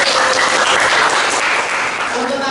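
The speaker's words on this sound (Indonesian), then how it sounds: "beri tepuk tangan untuk kelompok" Audience applause for a student group at a high school class presentation, a dense burst of clapping from many hands that holds steady throughout, then eases slightly at the end.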